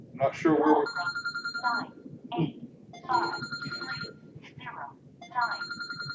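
A telephone rings repeatedly in a steady electronic pattern, fairly clear and close, while people talk over it during a racing news conversation.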